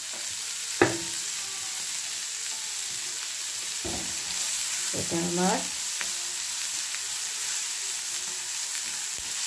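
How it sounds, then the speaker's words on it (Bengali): Ingredients frying in a pan as a tempering for musur lentil soup, a steady soft sizzle running throughout with occasional utensil knocks, and someone speaks briefly over it. "ভাজা হয়ে গেছে"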